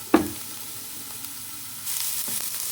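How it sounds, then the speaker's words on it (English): Onions sautéing in a pan with garlic, a soft continuous sizzle with a sharp clatter at the start and a louder hiss building near the end. "We'll let these onions cook for a good couple minutes"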